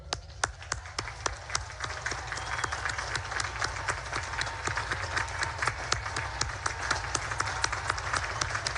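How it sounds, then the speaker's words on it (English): Sustained applause from a large crowd of families at a US Naval Academy commencement, dense steady clapping throughout with scattered sharper claps standing out, loud and close, no talking. "give them a round of applause"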